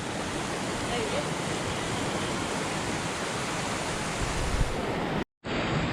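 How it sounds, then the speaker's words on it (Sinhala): A water stream in a wet monsoon forest at Hawagala, a continuous close rushing and gurgling that stays even throughout, then cuts off abruptly for a moment near the end. "මෙන්න හම්බෙනවා දෙවෙනි වතුර පාර"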